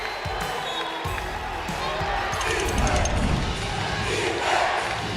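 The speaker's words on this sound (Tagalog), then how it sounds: "as the Quezon crowd goes into a frenzy" Basketball crowd at a playoff game in Quezon erupting into a frenzy, loud roaring and shouting that swells over ball bounces and court noise, with voices mixed in.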